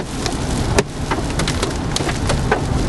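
Large hailstones hit a car windshield during a storm, a dense, irregular clatter of sharp impacts over a steady roar, loud and close, with no talk.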